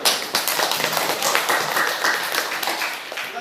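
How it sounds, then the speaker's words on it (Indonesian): A classroom audience applauds a student group after its discussion presentation, a dense patter of many hands clapping steadily for a few seconds, fairly close and with no speech over it. "Oke, kita kasih aplaus dulu."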